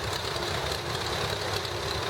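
A 1947 Minneapolis Moline UTS tractor idles during a parade, a soft, even engine chug at moderate distance with a faint rhythmic knock.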